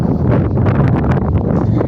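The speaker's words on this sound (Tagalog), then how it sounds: "Sobrang lakas na talaga ng hanging amihan mga ka-sisters." Strong northeast monsoon wind by the sea buffets the microphone in a steady, rough roar with gusty surges throughout, no voices heard.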